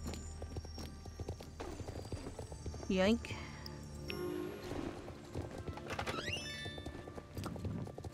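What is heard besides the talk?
horse in a video game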